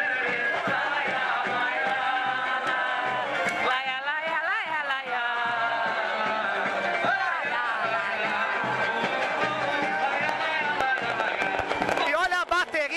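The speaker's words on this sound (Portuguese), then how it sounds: "olha a bateria com efeitos especiais, fogos de artifício, aqui na entrada do ensaio técnico da Gaviões da Fiel" Fireworks crackle and pop at the entrance of the Gaviões da Fiel samba school's technical rehearsal for Carnaval 2010, mixed with the drum section, a cheering crowd and a voice talking throughout.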